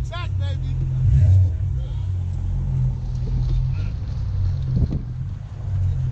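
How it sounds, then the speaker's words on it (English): Cars revving against each other in a rev battle at a car club photoshoot meet produce a loud, deep engine rumble that surges and holds, with wind buffeting and people talking over it. "You saw a little rev battle."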